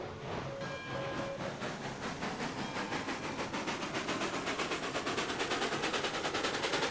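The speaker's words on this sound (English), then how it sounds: "Interesting chuffing sounds." A video-game steam locomotive chuffing as the throttle opens, with a steady stream of rhythmic exhaust beats that speed up and grow slightly louder over a rumbling background, and no talk.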